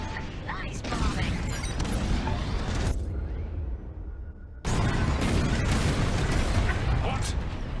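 Bombs exploding during a bombing run in Star Wars: Squadrons, dense rumbling blasts and mechanical roar, cutting out briefly to a quiet hum before another loud burst resumes.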